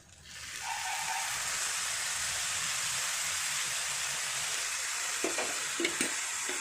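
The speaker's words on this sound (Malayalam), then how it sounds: "ഇനി കുറച്ച് നമുക്ക് ആവശ്യത്തിന് ശർക്കര നീര് ഒഴിച്ച് കൊടുക്കാം" Jaggery syrup poured into a hot pan of jackfruit mixture for chakkayunda sets off a loud, steady hiss of sizzling that swells in quickly and holds, with a few soft knocks of a utensil near the end.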